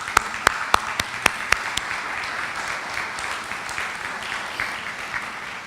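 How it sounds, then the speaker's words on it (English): A round of applause at a synagogue community dinner as a new cantor's family stands to be recognized; a few sharp, close claps open a dense, steady wash of clapping from the crowd that carries on without talk. "Will you please stand and be recognized and for a round of applause from everybody"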